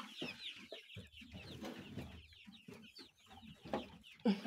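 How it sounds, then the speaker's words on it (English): Two-and-a-half-month-old hens on a mixed farm cluck while feeding, a series of short, close clucks and soft calls in an irregular rhythm with faint background noise. "So these are our hens."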